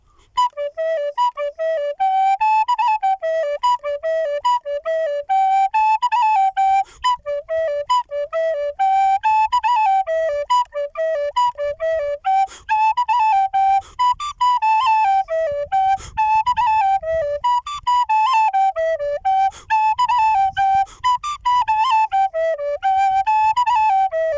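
Descant recorder plays the Irish tune Egan's Polka at a brisk tempo, a bright, steady run of clear whistle-like notes with a quick lilting rhythm, close and loud with no talking.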